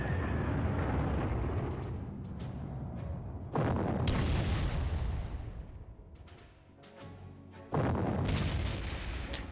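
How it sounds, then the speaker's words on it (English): Heavy bomb blasts in a World War II turn-based strategy game set around snowy Narvik, with deep booming bursts that swell, fade and strike again in loud waves. "Bomb."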